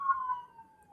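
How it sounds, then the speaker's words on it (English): An ambulance siren passes by, a short sustained tone that slowly falls in pitch and fades as the vehicle moves away. "I was letting the ambulance go by."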